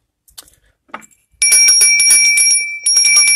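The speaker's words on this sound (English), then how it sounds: "Each one of these bells" A small bell marked with a Thai Buddha symbol rings bright and clear, close and loud, sustaining a steady shimmering tone after a few soft handling taps.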